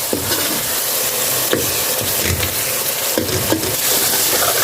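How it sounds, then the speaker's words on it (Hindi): Tomato, crushed green chilli and masala frying steadily in a pan, a dense continuous sizzle broken by regular stirring scrapes, close and loud with no talking. "जब तक हमारे टमाटर और ये साला मसाला सॉफ्ट ना हो जाए तब तक इसको हम अच्छी तरह पकाते जाएंगे।"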